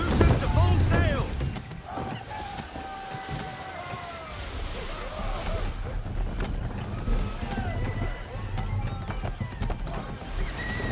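A sailing ship running at full sail on open sea in the video game Assassin's Creed III, with rushing wind and surging waves, creaking rigging tones, and voices calling over the roar.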